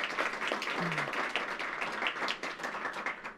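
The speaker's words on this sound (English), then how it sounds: "Let's have a round of applause for Climate Week." An audience at a Climate Week environmental education center opening breaks into steady applause, many hands clapping densely and continuously at moderate distance, with a brief voice or cheer mixed in.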